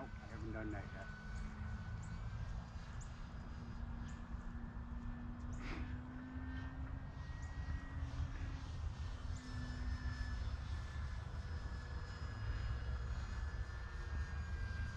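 An E-Flite Timber X RC airplane drones steadily through the air as it comes in to land on flaps, its motor whine continuous and moderately distant, with people talking over it.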